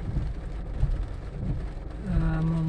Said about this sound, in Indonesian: Nampaknya suasana hujan ini